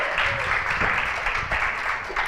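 Audience applause at a spring closing ceremony, a dense, loud burst of clapping sustained throughout with slight swells in intensity.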